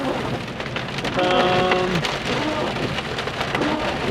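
Rain pours steadily during a drive through the woods, a dense loud hiss of drops on the vehicle with faint tonal hums underneath, continuous with no talk.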